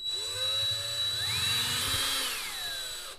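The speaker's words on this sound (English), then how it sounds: "So what I'm going to do is just find my center point, just take a small drill bit." A small drill bit, under an eighth of an inch, bores a pilot hole into a plastic cap on a workbench, giving a brief whining drill run that rises in pitch, holds, then winds down; quiet and close.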